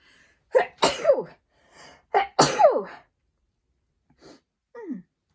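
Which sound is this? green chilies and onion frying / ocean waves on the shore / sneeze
sneeze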